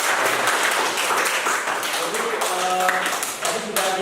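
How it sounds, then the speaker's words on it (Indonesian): Students in a classroom clap together after a group presentation. Brisk, close clapping runs throughout, with a few voices talking and calling out over it. "Kita tepuk tangan dulu ya."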